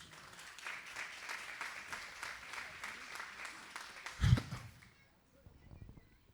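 A church congregation at a live Sunday school service applauds in praise, a moderate clapping that carries on for about four seconds before a thump and fade, followed by quiet room tone and faint voices.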